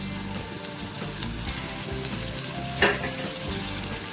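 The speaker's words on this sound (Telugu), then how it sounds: "ఒకసారి మంచిగా ఫ్రై చేసుకుందాం." Onions and tomatoes fry in a pan for an egg curry, giving a steady close sizzle with a light stir and a small clatter near the end, and no voices.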